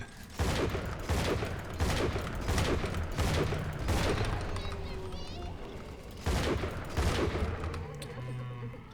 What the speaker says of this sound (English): I'm constantly shooting it.